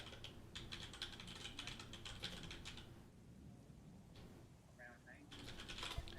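Rapid, irregular bursts of key-smashing on a computer keyboard, mimicking typing, clatter loudly in close bursts with a pause in the middle, over faint background noise.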